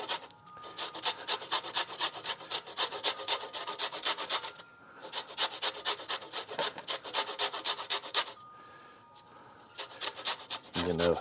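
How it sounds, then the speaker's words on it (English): A lemon is rubbed against the small holes of a grater in quick rhythmic strokes, a bright scratchy rasping that comes in bursts separated by brief pauses, close and fairly quiet. "we're just gonna get the zest from this lemon"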